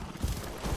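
Horse hooves clip-clop in a video game, a few rhythmic low thuds close by with no talk over them.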